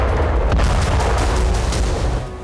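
Loud, sustained blast from a Russian glide bomb striking a shopping mall in Kharkiv, a dense roaring burst of explosive noise filling the space before fading slightly at the end.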